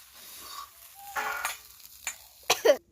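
Spiced potato filling for stuffed pointed gourd sizzling in a wok, heard in short, quiet, intermittent hissing bursts against near silence.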